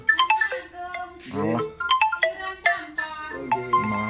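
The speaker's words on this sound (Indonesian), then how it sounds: "Iki ana telepon barang iki." A mobile phone ringtone plays an incoming-call melody of short electronic tones, fairly close and clear, while a person speaks briefly in between the ringing phrases.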